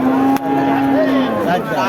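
A cow lows at a busy cattle market where thin, bony cows are sold. The single drawn-out tonal call lasts over a second, with voices and market noise around it.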